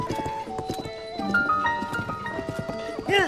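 A horse in the video game Zelda: Tears of the Kingdom trots with rhythmic clip-clopping hooves, close and clear, ending in a short whinnying neigh; a voice briefly speaks near the start.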